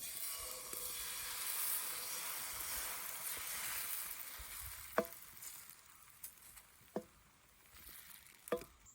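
Egg dosa batter cooking on a hot tawa produces a soft, faint hiss and gentle sizzle, broken by a few sharp, quiet clicks or taps near the end, with no talking.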